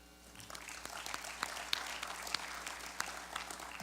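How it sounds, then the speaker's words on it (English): Scattered applause from an audience at a community evening event, fairly faint and sparse, with individual claps standing out from a thin patter. "if you could give them a round of applause"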